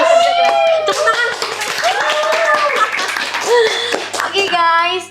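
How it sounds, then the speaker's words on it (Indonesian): Students clap in short bursts at a high school podcast recording, the quick hand claps mixing with lively children's voices and chatter that run over them throughout. "Tepuk tangan."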